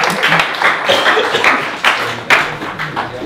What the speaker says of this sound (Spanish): un aplauso para César